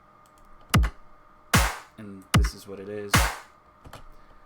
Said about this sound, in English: it just has like a very simple drum pattern